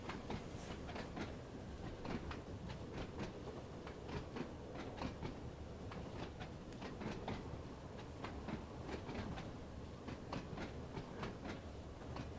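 A train in Train Sim World runs on rails while approaching a platform, giving a steady, faint rumble with evenly spaced clickety-clack beats throughout and no talking.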